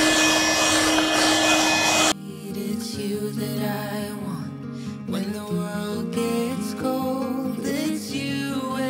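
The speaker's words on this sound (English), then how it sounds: "I'll just vacuum this." A vacuum cleaner runs steadily and loudly nearby, with a continuous whine and hum whose tone shifts as the machine is moved around a household room.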